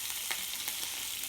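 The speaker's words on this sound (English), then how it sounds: "Get the excess off and then straight in the frying pan." Abalone, lightly dusted in flour, frying in a hot pan with a steady, close, crackling sizzle that continues without a break and with no voices.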